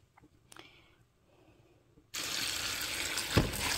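After a few quiet clicks and knocks, a kitchen tap suddenly gushes at full flow over fish being washed for soup, a loud, steady rush of running water with a thump partway through.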